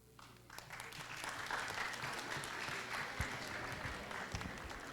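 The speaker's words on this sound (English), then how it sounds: "Another round of applause to our graduates" An audience at a college and TVET commencement exercise at St. Bernadette College of Alabang claps steadily for the graduates, a dense, moderately loud round of applause throughout.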